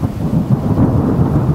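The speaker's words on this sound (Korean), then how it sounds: "날이 어두워진 후 장대비가 내리기 시작했다" Heavy downpour after dark, heard as a dense, loud, steady roar of rain with a low thundery rumble underneath, continuous through the short stretch without any voice.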